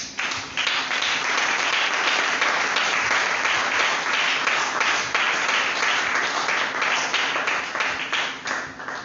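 Church congregation applauding and acclaiming the Lord, dense sustained clapping from many people filling the room for several seconds, with scattered cheers.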